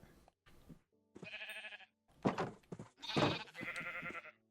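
Sheep in the Minecraft video game bleat several times in quick succession. The wavering bleats are fairly quiet and are separated by short gaps.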